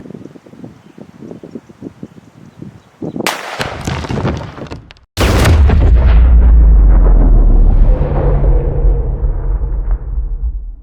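A rifle chambered in 400 Legend fires outdoors, a sharp loud blast followed by a second heavier report whose boom rolls and decays over several seconds; no talking.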